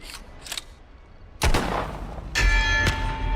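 Flare gun shots striking bells in the VR game The Gallery: sharp bangs, each followed by a ringing metallic clang with a sustained bell tone, heard as two loud hits after faint earlier tones.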